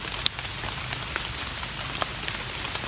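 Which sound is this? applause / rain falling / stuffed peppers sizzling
rain falling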